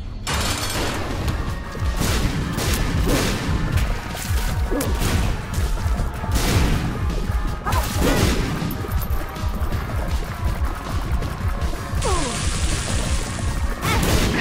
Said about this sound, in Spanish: por tratar de esquivar los disparos, me disparé a mí mismo